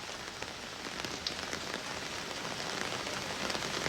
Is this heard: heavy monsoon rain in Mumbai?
yes